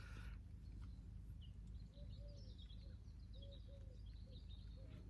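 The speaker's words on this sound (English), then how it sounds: "All I can hear is birds singing" Faint birdsong drifts in over a low rumbling background, with soft repeated chirps and whistled calls from a distance.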